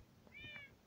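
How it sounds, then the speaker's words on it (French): A cat in a Minecraft village zoo gives a single short, faint meow in a quiet game scene, followed by a brief soft thump. "il y a des chats, il y a même des bébés"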